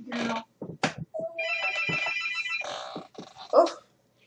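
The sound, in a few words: telephone ringing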